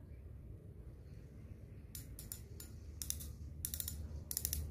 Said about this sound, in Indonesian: Jadi bunyi dragnya gini, enak ya, renyah, cukup nyaring, tak tak tak tak, enak sekali suaranya.